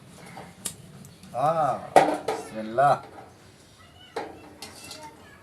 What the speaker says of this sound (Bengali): কড়াটা দিয়ে নিলাম